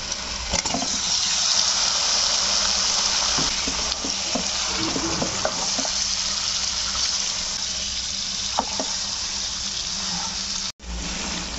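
Chicken meat sizzles loudly in hot ghee with chopped garlic and ginger, a steady frying crackle with occasional stirring scrapes, close and continuous throughout with a brief dropout near the end.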